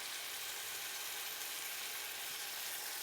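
Garlic and turmeric sautéing in a little oil, giving a steady, even, fairly quiet hiss of sizzling throughout with no talking.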